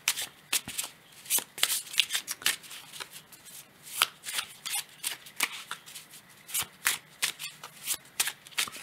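Cards from a Wild Unknown Animal Spirits deck are shuffled close up in a quiet room, a long run of crisp riffles and rustling flicks in quick bursts.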